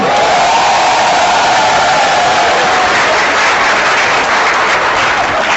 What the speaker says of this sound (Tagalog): Palakpak naman kayo dyan.